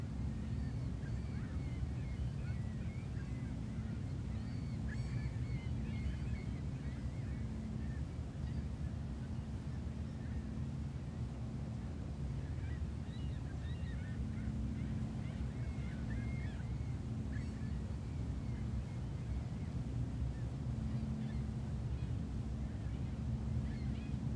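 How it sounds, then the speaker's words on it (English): Boat engine drone and pounding ocean waves in the fishing game Fishing: North Atlantic, as a steady, dense low rumble with wind-like hiss, continuous and fairly loud. "Definitely fighting some waves here."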